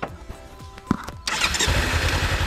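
A motorcycle engine is cranked with a few sputtering clicks and coughs, then catches about halfway through and runs on with a steady, rough idle close by.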